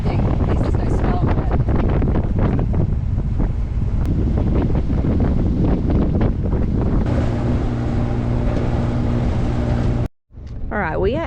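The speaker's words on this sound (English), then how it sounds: "Whoa, it's more wind than I was expecting." Strong wind buffets the microphone aboard a boat moving to a new anchorage at Caleta Partida, a steady loud roar with water and motor noise underneath, a steadier hum entering near the end before a brief dropout and a voice.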